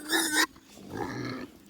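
Kunekune pig at home on a range, giving a short rough snort followed by a lower, longer grunt, close and fairly loud with no talk.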